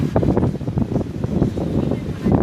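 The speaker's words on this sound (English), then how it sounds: "It's kind of windy out here." Wind buffets the microphone in loud, uneven gusts, producing a rough continuous rumble with no other clear sounds.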